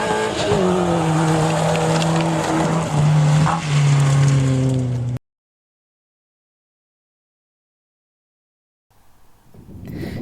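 A little Toyota Yaris rally car tears along a rally stage, engine revving hard through rising and falling gear changes, loud and close for about five seconds, then a long silence before faint crowd and engine noise return.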